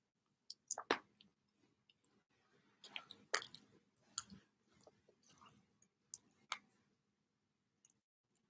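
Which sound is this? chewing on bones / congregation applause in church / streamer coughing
chewing on bones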